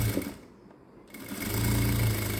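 Sewing machine stitching the lining of a princess-cut blouse with a quarter-inch seam, a steady close mechanical whir that pauses briefly partway, then resumes loudly and evenly.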